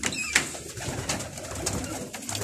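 Pigeons in a rooftop loft, with chicks under some of the birds, coo and call steadily through the whole stretch, with a sharper call near the start and soft rustling beneath.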